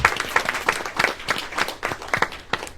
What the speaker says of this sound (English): Can we give them a lovely round of applause?